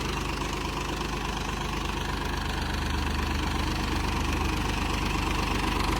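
A tractor engine runs steadily while pulling a cultivator through sandy farm soil, a loud, even diesel drone with a rapid knocking pulse, close and unbroken for the whole stretch, with no voices.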